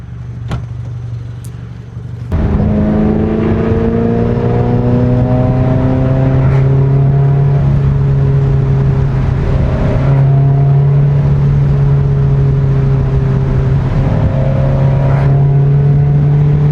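A car with about 600 horsepower and traction control switched off accelerates hard on a winding rural road, its loud engine drone steady and close, rising and shifting through gears for over fourteen seconds after a quiet start.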